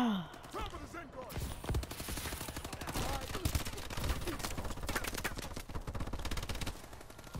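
Dense rapid automatic gunfire in a Call of Duty: Advanced Warfare team deathmatch, near and loud, with continuous bursts running throughout, preceded by brief synthetic game effects.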